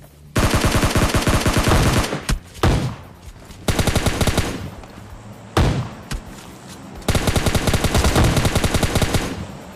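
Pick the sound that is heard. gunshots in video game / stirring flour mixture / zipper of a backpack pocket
gunshots in video game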